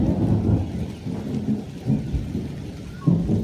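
Heavy rain falls at home with deep, surging thunder rumbles swelling and easing across the moment, a brief louder burst near the end and no one speaking.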